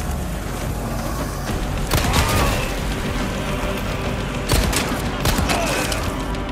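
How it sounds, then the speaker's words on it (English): Dynamite blasts go off in the survival horror game Resident Evil 4. Two sharp, loud bursts come a few seconds apart over a steady rumbling background. "Right, that's another explosion. Who is throwing those dynamite?"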